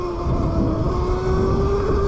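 Anyland Rev Pro electric auto wheelie dirt bike being ridden, a steady whining motor tone rising slightly in pitch over a rumbling, wind-buffeted background, close and fairly loud.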